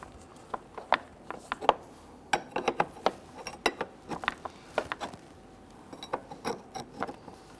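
Pliers working at a radiator hose connection on a 1999-2004 Jeep Grand Cherokee 4.7L V8, a run of sharp metallic clicks and clinks, irregular and close, fairly quiet with no talking.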